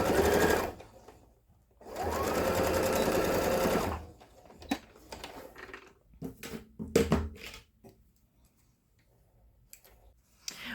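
Bursts of sewing machine stitching on a stuffed animal, a long steady run followed by shorter stop-start runs and clicking handling noises, close and fairly loud with no talking.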